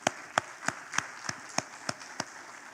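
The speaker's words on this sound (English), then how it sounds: "Round of applause for him as well." Forum audience applauding a guest, heard as sparse, evenly spaced single claps about every third of a second, fairly faint and isolated rather than a full crowd ovation.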